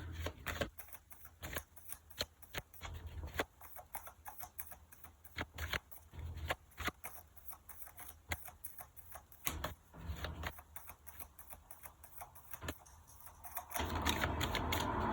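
Tarot cards are shuffled in dense crisp riffles and flicks, repeating in irregular bursts with brief pauses. The sound is close and moderately loud, with no talking, and ends in a broader rustling swell.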